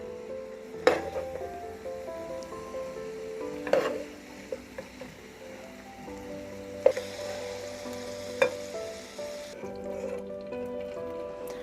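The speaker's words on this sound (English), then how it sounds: "after a good couple minutes of cooking, I'm going to remove that sausage." Sausage browns in a pan with a low, continuous sizzle, broken by occasional sharp clinks and scrapes of a utensil against the pan, fairly close and without any talking.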